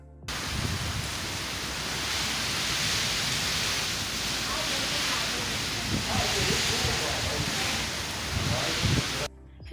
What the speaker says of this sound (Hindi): मैंने कहा आप लोगों को भी दिखाऊँ कितनी ज़बरदस्त बारिश हो रही है।